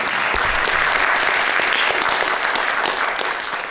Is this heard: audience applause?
yes